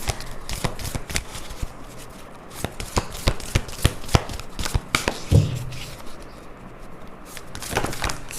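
Tarot cards are shuffled by hand in a rapid run of crisp riffling snaps and slaps, irregular but steady across the whole stretch, with a brief soft thump partway through and no talking.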